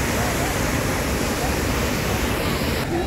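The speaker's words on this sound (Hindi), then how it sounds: "धुआंधार बहुत ही खूबसूरत जगह है जहाँ बहुत ही तेज़ी से नर्मदा का पानी गिरता है।" Dhuandhar waterfall on the Narmada river near Jabalpur roars in a steady, loud, broadband rush of falling water that fills the whole clip without a break.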